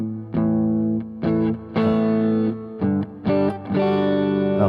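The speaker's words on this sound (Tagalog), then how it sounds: "Ito yung clean sound." Clean electric guitar played through an amp-less rig with a Fender 2x12 cab simulation, sounding a series of ringing chords and notes struck in separate bursts, sustained and bright with no other sound.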